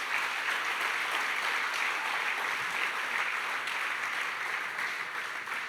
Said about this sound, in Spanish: Dale un buen aplauso de alabanza al Rey